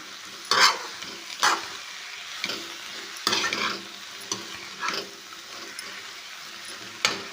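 Ridge gourd pieces frying in ghee are stirred in a pan, with a soft continuous sizzle punctuated by about eight sharp, close scraping strokes at uneven intervals.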